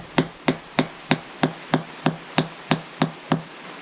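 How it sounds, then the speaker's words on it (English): A metal bush sleeve for a Ford Fiesta ST rear suspension, a Powerflex Black bush, is hammered into the car hub with eleven sharp, evenly spaced blows that ring out close and loud with no talk. "smack that into the hub."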